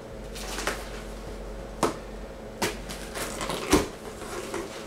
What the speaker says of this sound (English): Oh, packaging peanuts.